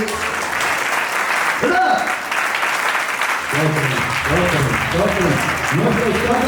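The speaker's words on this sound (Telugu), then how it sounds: "అందరూ ఒకసారి చప్పట్లు కొట్టండి" A church congregation at a Sunday worship service claps together in loud, dense, sustained applause. A voice speaks over the clapping in its second half.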